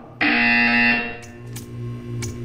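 A loud, harsh electronic buzzer in the video game Portal 2 blares for about a second, then fades into a softer sustained tone with a few short clicks.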